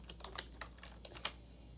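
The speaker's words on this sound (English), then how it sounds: "So I'm just typing this into Google." Typing on a computer keyboard: a short run of quiet, close key clicks in an irregular rhythm, with two sharper keystrokes standing out near the end.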